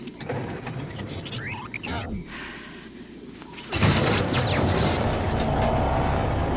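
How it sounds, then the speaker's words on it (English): Engines of a cartoon spacecraft sputter and then roar to life, a jumbled mechanical whirring that swells into a loud, steady hum in the second half, with sweeping whooshes over it. "Kidogo, try the engines again."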